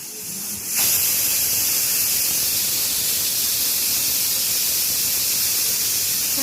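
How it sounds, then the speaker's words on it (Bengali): A pressure cooker lets off its whistle, a sudden loud rush of hissing steam that starts abruptly and stays steady and close to the end, with no voices. "প্রেসারের সিটিটা উঠছে, এইভাবে আমি 3-4টে সিটি মেরে নেব।"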